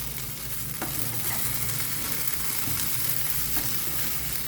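Potatoes frying in oil in a pan on low flame give a steady, close sizzle, with a few soft scrapes and clinks as they are flipped and stirred.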